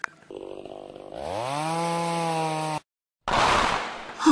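A chainsaw in the video game Zombie Island Legacy revs up, its rising whine holding a steady buzzing tone. It cuts off abruptly for a moment, then roars back harshly.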